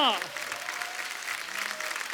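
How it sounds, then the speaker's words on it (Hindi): Studio audience applause on a Hindi comedy talk show as celebrity guests are welcomed, a steady mid-level wash of clapping that follows a brief high chime and fills the whole span. "क्या बात है, जोरदार तालियां।"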